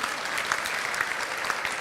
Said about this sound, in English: round of applause for our seniors